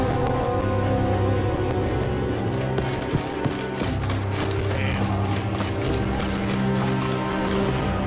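Hoofbeats of Geralt's horse Roach in The Witcher 3, a steady loud clip-clop gait running throughout amid continuous game ambience and music, with a couple of sharper thuds midway.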